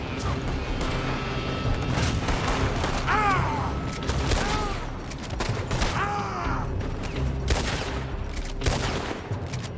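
Rapid bursts of gunfire from enemies firing out of a building in Red Dead Redemption 2, sharp shots crackling in clusters over a busy, steady game soundscape, with a brief muffled voice or two.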